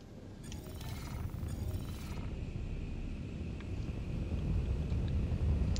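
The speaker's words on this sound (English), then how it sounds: "So you can hear all the hissing sounds in the background." Steady broadband hiss and low engine rumble fill the cabin of the Aegis Dynamics Retaliator bomber in Star Citizen, a continuous airy wash that swells slightly toward the end, with a faint tonal whine running through it.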